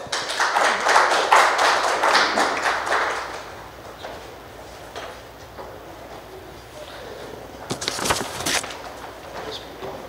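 Audience clapping at a book launch for a Punjabi novel, a dense burst of applause for about three seconds that fades, followed by scattered taps and knocks.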